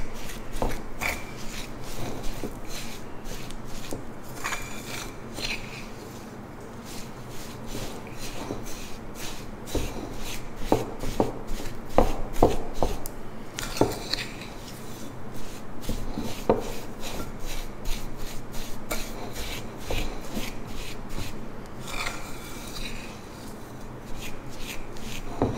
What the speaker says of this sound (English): Mix this together well